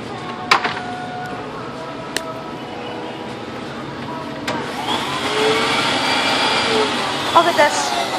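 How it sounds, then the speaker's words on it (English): A Hoover vacuum cleaner switches on partway through, its steady whine and broadband roar filling the room after a few sharp clicks and knocks, with people talking nearby. "Let's try the Hoover."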